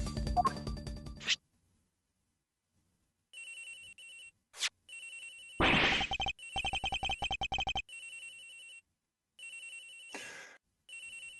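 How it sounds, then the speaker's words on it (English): A cell phone rings in the Ace Attorney Investigations video game, bursts of electronic ringtone repeating with pauses, alongside short synthetic blips and game sound effects. "Agent Hicks's phone. It's ringing from somewhere, sir."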